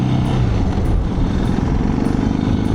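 A Suzuki DR 650 motorcycle engine runs steadily on a road test ride, a loud, continuous close-up rumble with wind noise and no pauses.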